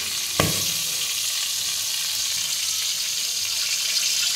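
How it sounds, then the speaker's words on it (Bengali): Hot oil sizzles loudly and steadily in a wok, with one sharp pop early on from a slit chili bursting. "কড়াইয়ের মধ্যে বোমবাস করছি, কোনো একটা লঙ্কা হয়তো চিড়ে দেওয়া হয়েছিল না"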